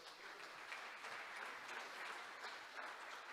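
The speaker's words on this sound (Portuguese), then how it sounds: "Aplauda o Senhor nessa noite." A church congregation claps steadily and fairly loudly, a continuous wash of applause throughout the short stretch.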